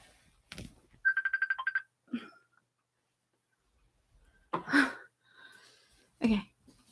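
A phone rings indoors in a house with a quick burst of electronic ringtone trills, followed by scattered thumps, a cough-like noise and brief faint voice sounds amid long quiet gaps.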